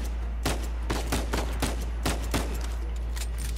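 Gunfire in the shooting game Uncharted 4: a burst of several sharp shots in quick irregular succession, loud and close over a steady low rumble.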